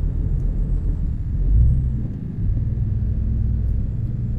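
A steady, low rumbling Peterbilt 387 truck engine in Euro Truck Simulator 2 drones continuously, swelling slightly midway, with no speech over it.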